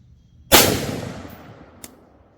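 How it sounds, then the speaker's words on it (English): A single loud, close rifle shot of an M855 green tip round is fired into a stack of baseball cards outdoors, cracking sharply with a decaying echo and a faint second impact after. "We're going to shoot one of them."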